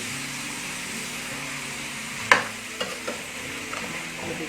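Potatoes, green beans and spices stirred in a hot pan, a steady close sizzle with a sharp scrape of the spoon in the middle and a few lighter knocks after.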